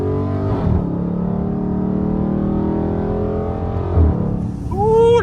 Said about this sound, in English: I'm just giving y'all some of these exhaust notes, man.